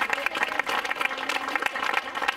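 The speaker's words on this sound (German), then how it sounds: "Und dann großen Applaus für die zweite Mannschaft." A crowd claps at an outdoor award ceremony for a girls' youth football tournament, the Waldecker Pokal, as the second-placed team is honoured. The clapping is moderately close, with irregular sharp hand claps throughout.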